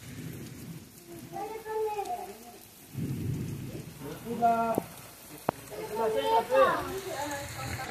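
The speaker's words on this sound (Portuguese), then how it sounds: "Gente, que maravilha essa chuva." Steady rain hisses on a rural road while thunder rumbles low, with people talking close by over the downpour.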